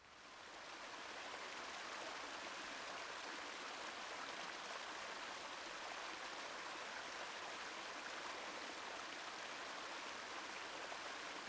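River water rushes around rocks beside a small waterfall, a steady broadband hiss of flowing current that fades in and then holds evenly throughout, with no voices.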